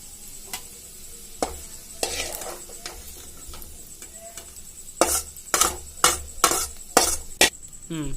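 Ingredients for a chutney fry in an iron kadai under constant stirring, a low sizzle punctuated by a rapid series of loud spatula strikes on the pan, growing more frequent toward the end.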